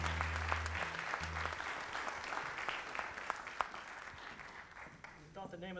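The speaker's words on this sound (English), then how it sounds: "Give them a round of applause." Audience applauding a returning American roots band onstage, continuous clapping and cheering at moderate level alongside low sustained musical tones early on, with voices over the crowd and a rising tonal sound near the end.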